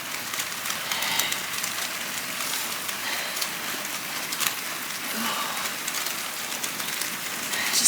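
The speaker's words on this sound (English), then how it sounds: "Just hope you can hear me over the rain, it's quite noisy." Steady rain falls outdoors during a storm, a dense, constant hiss of drops at moderate loudness, continuous throughout with no voices.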